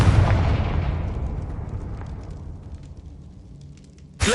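A Confringo spell blast in Hogwarts Legacy, a single loud booming explosion at the start that rumbles and decays over several seconds, followed by a sharp new burst right at the end.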